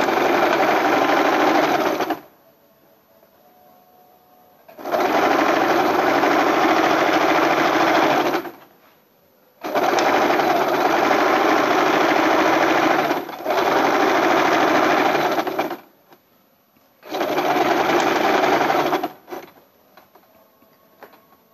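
A sewing machine stitches a badge onto fabric in four loud, steady bursts of a few seconds each, with short silent pauses in between and no talking.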